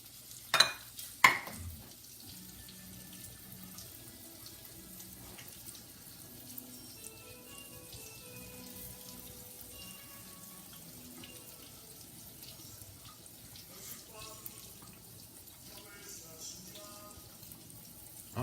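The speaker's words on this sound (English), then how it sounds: "wash my hand" Hands being washed under a running kitchen tap, a steady low water flow with some clatter and a couple of sharp knocks near the start, all fairly quiet.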